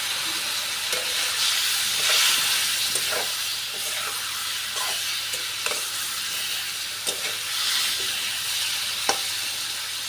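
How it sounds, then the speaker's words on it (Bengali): Spice paste sizzles and spits in hot oil in a pan with a little water added, for a fish curry with potatoes, a steady close frying hiss broken by stirring scrapes and occasional pops, with no one talking. "একটু জল দিয়ে দিলাম, যাতে মশলাটা পুড়ে না যায়।"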